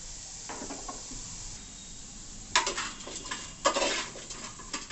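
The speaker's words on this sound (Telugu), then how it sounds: "కట్ చేసి పెట్టుకున్న ఆనియన్ని ఆయిల్ ఏం లేకుండా మామూలుగానే ఫ్రై చేసుకుంటాను" Chopped onions dry-frying in a pot with no oil while a Telangana-style fish curry is cooked, giving a quiet background hiss with a few brief clinks and scrapes of stirring near the middle and end.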